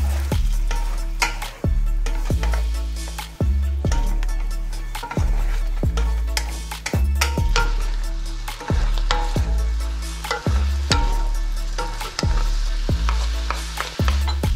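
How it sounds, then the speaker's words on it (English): Braised tofu and shiitake mushroom sauce stirred in a pan, with a steady rhythm of about a dozen repeated scraping strokes over a continuous sizzle, loud and close. "Sauce in, and then quick mix again."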